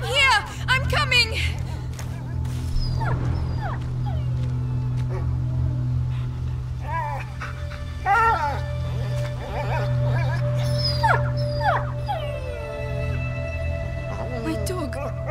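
A dog in A Plague Tale: Innocence whimpers and lets out high, wavering whines over a steady low drone, repeating in short rising cries throughout.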